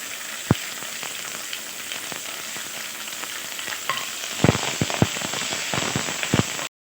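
Green chillies dropped into a pan of frying poha pulao with vegetables and grated carrot, a continuous sizzle broken by sharp crackles and a cluster of clattering stirring knocks near the end.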